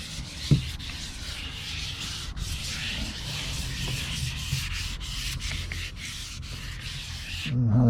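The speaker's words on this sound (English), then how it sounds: "Just let the sandpaper do its work." Sandpaper is rubbed by hand across a surface during RV repair, a continuous, gentle scratchy rasp of steady back-and-forth strokes, close and with no talking.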